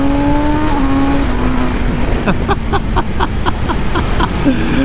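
A 2023 BMW M 1000 R ShiftCam motorcycle engine pulls hard through the revs with a loud, close roar, clicking through quick upshifts as its pitch climbs and drops, alone without talk.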